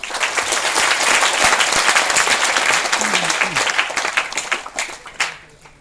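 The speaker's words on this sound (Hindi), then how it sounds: "उन सब लोगों के लिए एक बार तालियां" A crowd applauds warmly, dense clapping that holds steady then thins and fades toward the end, with faint voices underneath.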